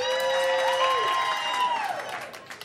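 Comedy club crowd breaking into clapping, steady applause mixed with scattered cheering and whoops, a voice holding a drawn-out tone through most of it before the clapping thins out.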